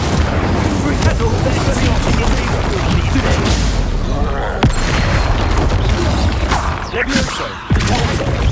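Fire spell cast in Hogwarts Legacy, a loud, dense roar of crashing, booming magic bursts filling the whole stretch, with a voice shouting over the din.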